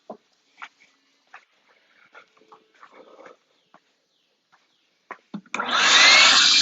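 Short dog whimpers and sniffs in a quiet room, then a vacuum cleaner switches on with a loud, steady roar.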